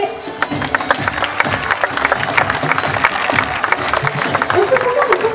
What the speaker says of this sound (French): alors applaudissons chaleureusement mes amis fauconniers